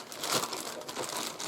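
Plastic packaging around Numatic Henry Compact HVR160 vacuum cleaner tools is punctured and torn open by hand, giving a close, continuous crinkling and crunching rustle with no speech.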